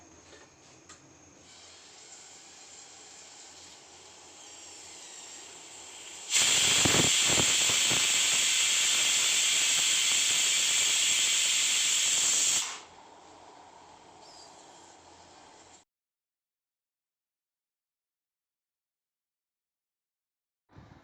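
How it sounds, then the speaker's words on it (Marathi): A pressure cooker of masala rice on a high gas flame lets out a loud, steady steam whistle-hiss lasting about six seconds, framed by quieter background hiss before and after, then silence. "कुकरला एक मोठ्या गॅसवरती तीन शिट्ट्या होईपर्यंत कुकर करून घ्यायचा आहे"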